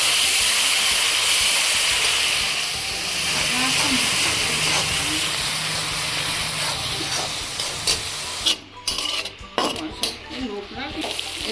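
Tomato paste, raw ginger and garlic paste with green chillies frying in oil, a dense steady hiss and sizzle with a voice speaking over it, turning choppier with intermittent spluttering bursts toward the end.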